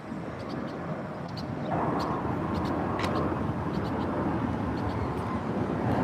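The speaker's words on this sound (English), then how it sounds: "Lots of airplanes taking off here at the Chicago O'Hare Airport." Jet airplanes take off at Chicago O'Hare Airport, a broad, steady roar that swells partway through and holds, heard from a distance with scattered faint clicks and ambient noise.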